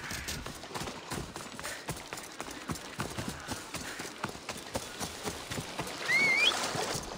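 Video-game horse gallops with rapid, steady hoofbeats drumming evenly throughout, and a brief whistle-like tone rises near the end; no one speaks.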